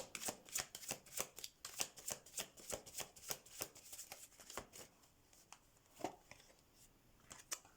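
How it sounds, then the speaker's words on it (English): Tarot cards are shuffled by hand in steady repeated riffling bursts, close and fairly quiet, with a brief pause near the end before a last few flicks; no one speaks. "Let's do some tarot cards, see what else."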